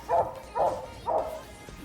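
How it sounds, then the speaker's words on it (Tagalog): A dog barks three times at an even pace, medium-loud and moderately close, over a low outdoor background rumble. "ang asong kumakahol"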